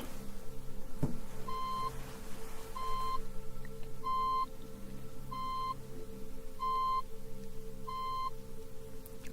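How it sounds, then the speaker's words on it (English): A series of six short, identical electronic hearing-test beeps at a steady rhythm, clear against a low continuous hum. "How many beeps was that?"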